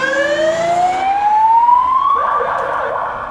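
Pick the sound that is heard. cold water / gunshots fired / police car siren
police car siren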